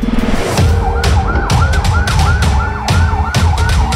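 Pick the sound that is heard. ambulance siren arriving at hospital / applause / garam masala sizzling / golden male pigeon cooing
ambulance siren arriving at hospital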